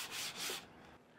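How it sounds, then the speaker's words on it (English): Two quick rasping strokes of sandpaper rubbing by hand on a wooden garden tool handle, close and soft, then fading to quiet. "But sanding by hand works just fine"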